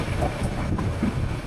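Passenger train number 704, the Mohanagar Provati, standing at a station, gives a steady low rumble with a faint rattle throughout, fairly close, with no voices over it.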